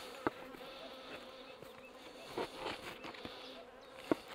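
Honeybees buzz faintly and continuously nearby, with a few sharp clicks and taps punctuating the quiet hum.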